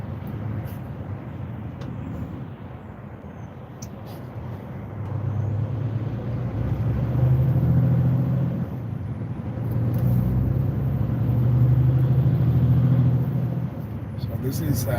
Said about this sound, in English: This is Birmingham traffic.